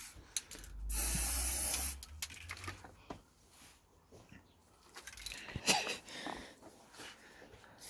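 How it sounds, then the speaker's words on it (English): An aerosol can sprays paint onto dechromed car trim from a 2008 Vauxhall Astra H, one steady hissing burst of about a second, then quieter handling noises and soft rattles close by. "So you sprayed it too much in the middle."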